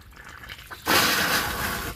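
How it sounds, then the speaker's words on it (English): A Matco coolant flush gun filling with water: a quiet start gives way to a sudden loud, steady rush of water that holds for over a second, close up with no speech. "Let it fill with water a little bit."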